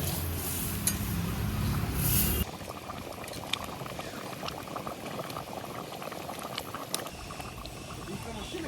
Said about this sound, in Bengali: ফোড়ন দিয়ে আরো 2-3 মিনিট ফুটিয়ে নিয়েছি